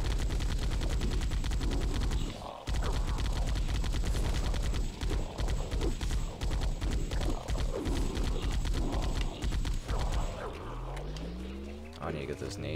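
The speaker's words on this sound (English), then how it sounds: "Uses the Halo 1 turret effects." Rapid, sustained turret fire with Halo 1 turret effects in Halo Custom Edition, dense repeating shots hammering steadily for about ten seconds, with a brief gap early on, before cutting to quieter game sounds.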